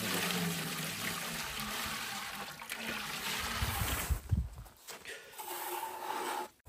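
Water poured into a large cooking pot set on a wood fire, a steady rushing splash that fades toward the end, with a voice talking over it.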